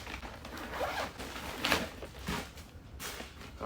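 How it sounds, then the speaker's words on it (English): A zipper is pulled open on the fabric casing around an F30 BMW M Sport front bumper with PDC, giving several close, scratchy rasping runs in a row with no talking. "I'm going to take this out real quick here if I can find the zipper real quick."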